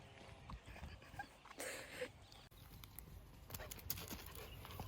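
A pet dog named Sherkan is faintly heard, with soft panting, scuffling and pawing sounds that come in scattered bursts in a quiet room, ending with a sharp bump.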